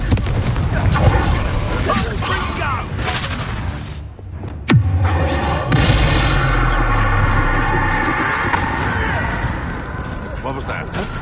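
Confringo fire spell blasting in the Hogwarts Legacy video game, a sharp explosive crack around the middle amid dense, loud combat noise and game sound effects, with a voice casting spells over it.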